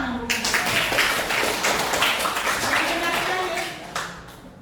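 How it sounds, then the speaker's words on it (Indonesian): Students in a classroom clap together for a few seconds, a close, busy patter of hands that tapers off at the end. "Oke, tepuk tangan dulu."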